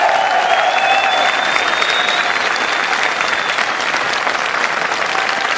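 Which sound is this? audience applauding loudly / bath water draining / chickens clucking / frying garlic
audience applauding loudly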